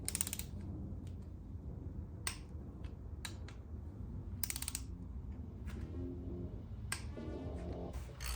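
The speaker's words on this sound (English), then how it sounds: "you're going to proceed to torque the cam bolts." Engine cam bolts being torqued down with a torque wrench, the crank held by a ratchet below, giving sharp clicks and snaps at irregular intervals with faint mechanical creaks in between, close by and fairly quiet.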